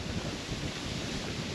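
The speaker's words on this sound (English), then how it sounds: "it's windy" Strong wind buffets a microphone fitted with a wind muff outdoors at a magnet fishing spot in a continuous low roar, gusty and close, with no voices.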